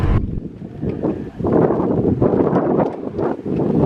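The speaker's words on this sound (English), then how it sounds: "it's still incredibly windy" Strong wind on the island of Texel buffets the microphone in loud, continuous gusts, roaring and rumbling throughout with no voices.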